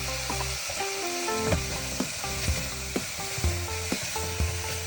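Ginger garlic paste sizzles and fries in a pan for quinoa khichdi, a steady close hiss broken by periodic stirring scrapes and knocks, with no voices.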